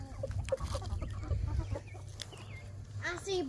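Roosters in a busy chicken coop, including the dominant one, give a run of scattered clucks and short calls close by over a steady low hum, with a few louder squawks near the end.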